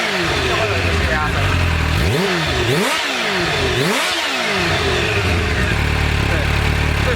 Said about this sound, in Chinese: 所以你只要放开油门，就会有一个泄压声。